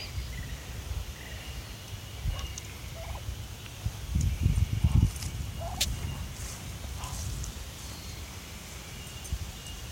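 Muscovy ducks and ducklings, the young about two months old, calling outdoors in the morning: soft scattered calls with a louder burst of low, gobbling-like vocalizations in the middle, over faint insect and rustling background.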